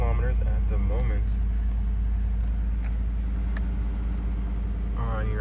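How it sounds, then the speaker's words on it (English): A 2016 Ford F-150 XLT 4x4 with about 173,000 km on it idles with a steady, close rumble from start to finish. Someone talks over the engine at the start and again at the end. "I'm just gonna turn the truck on"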